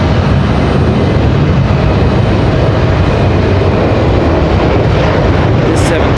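An Alaska Airlines Boeing 737 departs Raleigh-Durham for Seattle, a loud, steady broadband jet roar that fills the whole stretch without letup.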